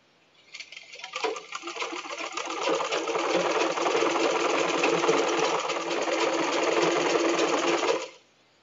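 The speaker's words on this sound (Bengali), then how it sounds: "এখন এই সাইড থেকে আমি সেলাইটা করব।" A sewing machine stitches elastic into the waistband of a salwar, running in one continuous close whirring burst that builds up over the first couple of seconds, holds steady, then stops cleanly.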